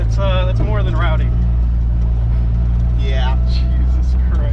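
A Mazda Miata race car drives along with a loud, steady low engine drone and cabin rumble, while people talk over it in two short bursts.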